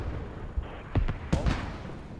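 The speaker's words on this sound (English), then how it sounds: "mortars are coming in" Incoming mortar rounds in a military video game set in the city of Al Basrah, with several muffled thuds landing in quick succession over a short stretch.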